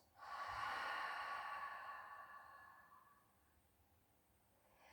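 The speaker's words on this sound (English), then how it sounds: "And breathe out through your mouth fully." A long, slow exhale pushed out through the mouth during a beginners' breathing exercise, a broad breathy hiss that swells quickly and fades gradually over about three seconds, close and alone.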